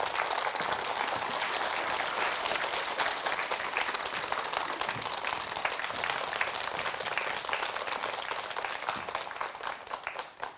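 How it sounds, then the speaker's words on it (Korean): An audience at a lecture on habits applauds to welcome a speaker, dense steady clapping filling the room for about ten seconds at moderate volume without talk. "김종삼 대표님을 큰 박수로 모시겠습니다."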